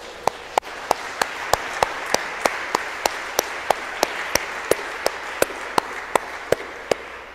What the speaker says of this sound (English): Should we clap for Jesus and Mary?